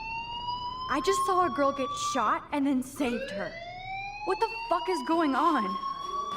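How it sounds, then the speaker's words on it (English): A fire alarm sounds in the video game Life is Strange. It is a loud, steady electronic whine with slowly rising tones that runs under a girl's frantic, overlapping speech. "Hey, do you hear that fire alarm?"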